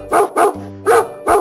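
A dog gives four sharp, loud barks, close by, evenly spaced with short gaps between them and no other sound.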